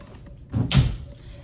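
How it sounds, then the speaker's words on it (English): A film drying cabinet door swings shut with a single solid thud and short rattle, close by and fairly loud against a quiet room. "I'm going to go ahead and close up the door"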